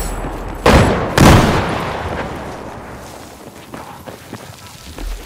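A grenade blast and gunfire in the PS3 video game Battlefield 4, domination mode: two sharp, loud explosive bursts close together, followed by fading rumble and a few fainter distant shots.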